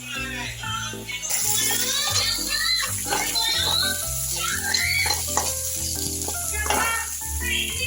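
Turmeric powder and cumin paste sizzling in a frying pan for a prawn malai curry, a loud steady fry that starts abruptly partway in and continues under a voice speaking and a voice nearby.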